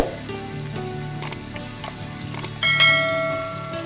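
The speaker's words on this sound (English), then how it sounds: "we're going to saute the mushrooms" Baby bella mushrooms sizzling steadily in a hot pan, a constant crackling fry punctuated by a few clinks and stirring scrapes, with a louder burst of sizzle near the end.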